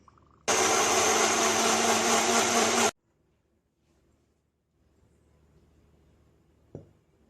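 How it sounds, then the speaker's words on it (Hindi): Milk and milkshake ingredients whir in a blender in a loud, steady burst of about two and a half seconds that stops abruptly, followed by quiet shuffling and a single knock. "चलिए इसे हम ब्लेंड कर लेते हैं।"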